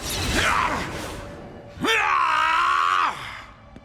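A cartoon character screams in an animated children's action series, giving a short groaning cry and then a long, loud, sustained yell that cuts off sharply.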